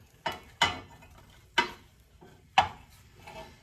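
Onions are dropped into a buttered pan on the stove for caramelizing: four sharp, close clattering hits, each followed by a short sizzle, with quiet gaps between and no speech.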